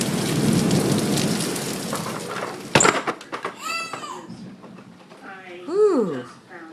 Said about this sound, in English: Mother Nature is pissed off. Okay, I'm getting wet now.